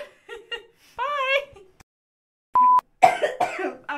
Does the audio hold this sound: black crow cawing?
no